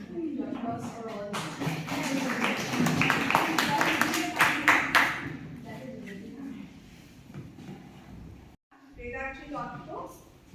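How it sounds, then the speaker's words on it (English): Seminar attendees at an environmental law event applaud in a burst of crisp, overlapping claps that swell and then thin out, followed by a speaking voice and quieter room noise. "So we can just applause for all."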